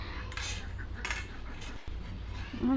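A metal spoon scrapes along drumstick stalks in a pan, a few short rasping strokes close up and fairly quiet, each separated by brief pauses.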